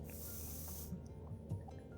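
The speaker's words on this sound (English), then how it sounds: "He aims a spray at your hair and gives you a quick spurt." A quick spurt of hair spray gives a brief, bright hiss lasting under a second, close by, followed by quiet background murmur and faint soft rustles.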